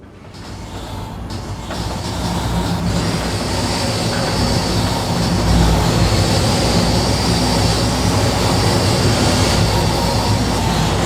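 Train running in the Trainz video game, a continuous loud rolling rumble of wheels and cars that builds over the first two seconds and then holds steady, with no voices.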